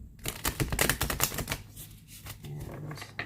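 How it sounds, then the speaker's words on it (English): Stiff new tarot cards from a Light Seers deck being shuffled by hand, giving a quick run of crisp, close clicking riffles that soften into quieter rustling. "so I'm not shuffling the greatest at the moment. But we will go through this, shuffle them a few times."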